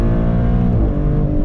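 Maserati GranCabrio Trofeo climbing through its gears in sport mode, a loud, close engine roar whose pitch rises, then drops sharply at an upshift before building again.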